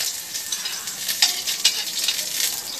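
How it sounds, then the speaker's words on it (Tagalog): Garlic sizzling in hot palm oil, a steady bright crackle with a few sharper spits and light stirring against the pan, close and continuous, with no talking. "Pag mainit na ang mantika, pwede na natin ilagay ang ating bawang."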